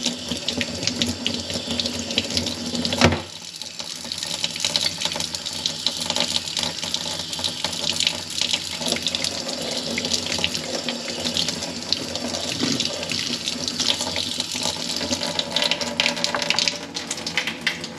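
Hot water gushing from a tap while beaver skull bones are cleaned, a loud unbroken splashing stream with one brief interruption near the start, no voices.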